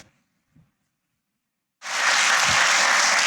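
An audience breaks into steady, loud applause after a quiet pause, the clapping continuing densely and evenly at a Jain religious discourse.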